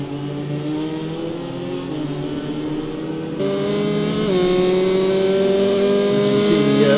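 GTE and LMP2 race cars in Project CARS 2 drone steadily at speed during an endurance race at Daytona, a loud sustained engine tone that shifts pitch partway through.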